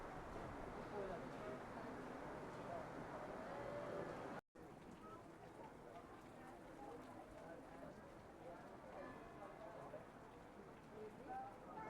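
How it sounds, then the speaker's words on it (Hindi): Heavy rain pouring at Kamakhya temple in Guwahati, a dense, continuous hiss with crowd murmur underneath and a momentary dropout partway. "बदल गया और बहुत तेज़ बारिश होने लगी है"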